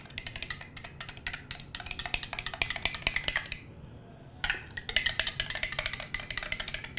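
Shaker bottle mixing REDCON1 Big Noise pre-workout powder, rapid rhythmic rattling and clinking from vigorous shaking, close and steady, with a brief pause midway before the shaking resumes.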